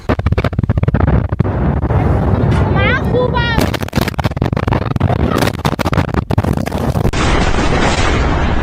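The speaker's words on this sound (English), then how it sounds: "Horrifying footage shows the moments of the arrivals of these bombs." Bunker buster bombs striking in Iran, heard as loud repeated booming blasts and bursts with heavy rumbling, crackling debris and a rushing, whistling tone, while voices speak over the chaos.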